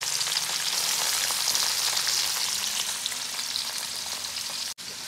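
Ivy gourd (kundru) fries in oil in a kadhai over low heat, a steady close hiss and crackle of sizzling that runs throughout with a brief drop near the end.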